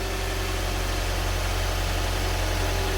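A car engine idles steadily during a transmission flush, giving a constant, moderately loud hum with no pauses and no talk.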